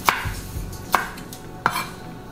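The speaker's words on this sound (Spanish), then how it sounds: "Los chiles los partimos en rodajitas así" Knife chopping through chili peppers into rounds on a cutting board, three sharp, evenly spaced cuts close by with quiet gaps between them.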